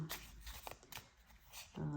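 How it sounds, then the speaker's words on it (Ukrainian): A deck of 36 playing cards is shuffled at close range, giving soft riffling and sliding bursts. The sound is quiet and uneven and stops briefly in the middle. "Тасувати добре, довго бажано гральні картки"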